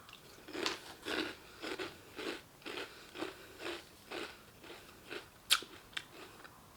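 Reese's Bats cereal eaten with milk and a spoon gives about a dozen close, crisp crunching bites in a steady chewing rhythm, with no talking.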